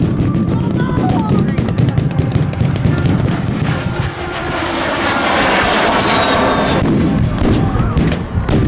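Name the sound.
MiG-15 jet fighter flying at an airshow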